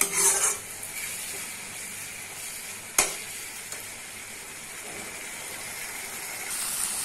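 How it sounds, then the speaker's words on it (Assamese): Masala for an Assamese prawn curry fries noisily in oil, a steady sizzle with spoon stirring and a sharp clink around the middle, the hiss swelling again toward the end as hot water goes in. "এতিয়া মই অকণমান গৰম পানী দি দিছোঁ যাতে মছলাখিনি লাগি নধৰে"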